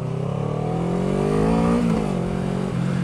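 A motorcycle accelerates on a Belgian licence test course, its engine note rising steadily then dipping briefly as it shifts, moderately close and alone.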